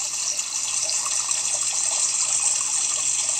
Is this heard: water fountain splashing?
yes